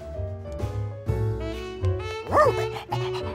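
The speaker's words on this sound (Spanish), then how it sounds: "él es Blaze, el nuevo perro bombero" A cartoon firehouse dog barks and yips a few times in quick bursts, mixed with a music or soundtrack background and brief voices.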